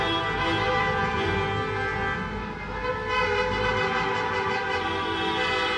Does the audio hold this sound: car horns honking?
yes